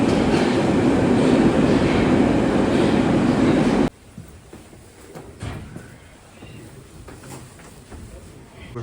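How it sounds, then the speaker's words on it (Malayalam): A St Petersburg metro train at the station gives a loud, dense roar of wheels and motors that cuts off suddenly, leaving a quieter station hum with scattered clatter and a voice. "മോസ്കോയിലെ പോലെ തന്നെ ഒരു മെട്രോ വരുന്നുണ്ട്."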